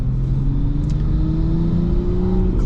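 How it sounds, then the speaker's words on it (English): Manual transmission car engine downshifting into second gear as the clutch is let out slowly: a steady, close engine drone with a low hum and a gently rising pitch, heard alone. "So I'm going to put my clutch in and go down now into second gear."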